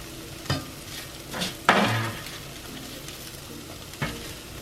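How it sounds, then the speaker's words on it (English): A spoon stirs toasted vegetables and chickpeas in a hot pan, giving a few scraping strokes over a steady sizzle, including one louder scrape near the middle, with no talking. "we're going to add half of these vegetables into here along with some feta"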